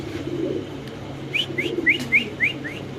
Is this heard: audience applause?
no